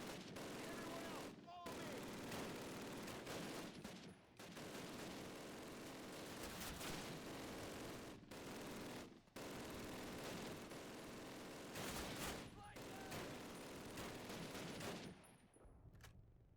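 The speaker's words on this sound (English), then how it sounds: "Suppressing fire." Sustained suppressing gunfire in the 2003 PC game Call of Duty, loud dense bursts of rifle and machine gun fire almost continuous for the whole stretch with brief gaps, without any speech.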